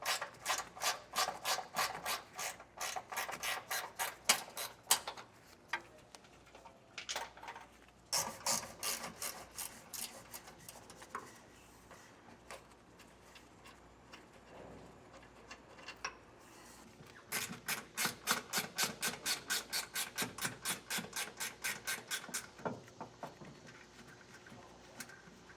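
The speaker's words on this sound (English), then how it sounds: "I'm gonna take a 12mm ratcheting wrench and I'm gonna get these old Timbrens off." A 12mm ratcheting wrench backs out the bolts on old Timbren bump stops under a truck frame, giving fast runs of crisp pawl clicks in bursts with short pauses between strokes, close and fairly loud with no talk.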